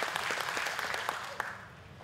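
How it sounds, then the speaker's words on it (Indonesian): A seminar audience in Bali gives a brief burst of applause for a guest speaker, with dense clapping and a few sharper individual claps standing out as it tapers off. "kita beri aplaus tepuk tangan yang meriah untuk Bapak Hermawan Kartajaya."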